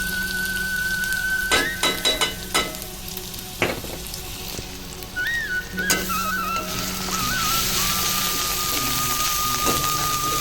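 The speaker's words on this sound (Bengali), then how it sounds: "আর মশলাগুলো ওগুলো ভাজা হয়ে যাবে" Ground spices frying in hot oil with onion, ginger and garlic for a shankar fish curry, a steady close sizzle with intermittent stirring clatter and a few tonal kitchen beeps, no talk.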